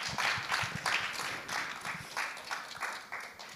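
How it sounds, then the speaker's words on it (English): An audience at a symposium closing applauds, a moderately distant, sustained patter of many hands clapping with uneven surges, alone with no talk over it. "So please put your hands together and then give a big round of applause to Vivian Lim."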